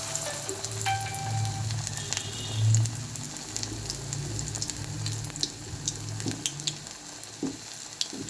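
Pumpkin flower fritters sizzle steadily in hot oil on a gas flame set to medium heat, a continuous close frying crackle with occasional soft pops and faint kitchen clatter, no talking.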